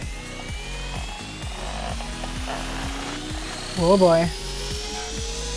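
Steady rhythmic rotor chopping of a helicopter in the RealFlight 8 flight simulator game, with a rising engine whine, as a voice briefly speaks over it.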